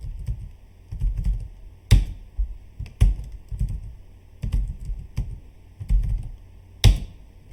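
A password typed on a computer keyboard, bursts of quick, close key clicks with sharper strikes at intervals, probably the enter or space key, and no talking.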